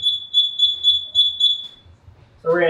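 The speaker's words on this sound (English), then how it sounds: "I still have supervisory alarms because I have the control valve that's closed here." A fire sprinkler control panel sounds a supervisory alarm: five steady, evenly spaced high electronic beeps, loud and close, followed by a brief voice speaking at the end.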